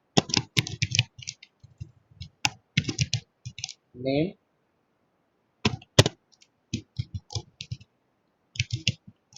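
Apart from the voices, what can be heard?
typing on a computer keyboard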